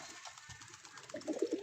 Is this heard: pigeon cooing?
yes